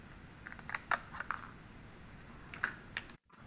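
A craft knife or scissors cuts a small round curve into a paper stencil, making a few soft, crisp snips and scratches in short bursts, close and quiet.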